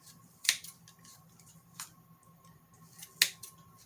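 Sharp scissors snip through thick yarn wound on a pom-pom maker, giving three crisp, separate cuts a second or more apart, close and clear in a quiet room.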